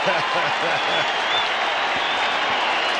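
A football stadium crowd roars steadily at an NFL game between the Philadelphia Eagles and the Buffalo Bills, a dense, loud wash of cheering that holds throughout, with a commentator's voice heard briefly near the start.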